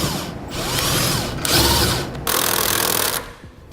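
A power drill drives a self-tapping screw into a vehicle frame bracket while installing Air Lift LoadLifter 5000 air helper springs on a 2012 vehicle, whirring loudly in several close bursts separated by brief pauses.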